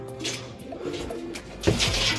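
Pigeons coo in a low, throaty murmur, several soft rolling calls close by with a brief flutter near the end, no talk.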